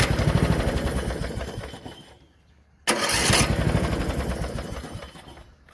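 A new starter cranking the 17-horsepower Briggs & Stratton engine on a Toro Wheel Horse 17-44 HXL lawn tractor, two close, loud bursts of rapid rhythmic cranking split by a short pause, the engine never catching.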